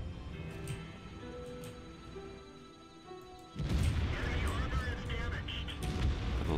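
Tank cannon fire in World of Tanks with an FV215b, M46 Patton or Bat.-Chatillon 25t in the battle, a sudden loud blast landing midway through and turning into a sustained roar after quieter game ambience and ticking sounds.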